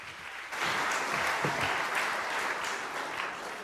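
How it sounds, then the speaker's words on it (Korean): Congregation clapping in a Korean church during a special Friday prayer service, applause swelling in after a short quiet moment and holding steady, unaccompanied by speech. "박수."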